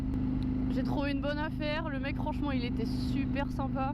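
A KTM Duke 790 motorcycle with a decatted Akrapovic exhaust holds a steady low idle drone beneath someone speaking French throughout.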